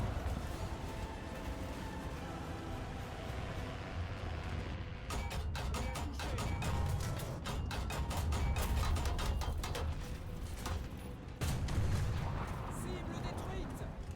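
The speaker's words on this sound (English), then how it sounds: "Double artillery." Artillery and gunfire in a War Thunder realistic tank battle: a steady rumble at first, then rapid bursts of sharp reports and booms in close succession, with a louder blast near the end.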